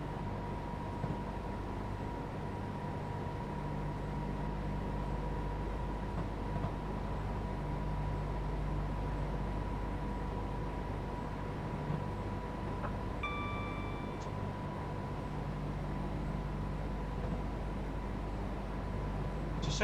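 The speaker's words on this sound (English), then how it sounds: "It's a shame there's no other AI trains on this route though." A quiet, steady rumble of a Class 91 train running on the Settle to Carlisle route in Train Simulator 2017, with a low hum and a faint tonal whine, continuous and distant-sounding, with a brief higher tone midway.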